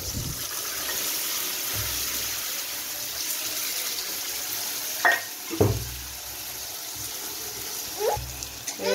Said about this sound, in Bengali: এবার আমি ভেজে রাখা আলুগুলোকে দিয়ে দেবো। আর দিয়ে দেবো এই সিদ্ধ করে রাখা মটরটা।